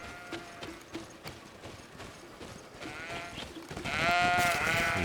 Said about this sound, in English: You silly goats. Stop panicking, will you?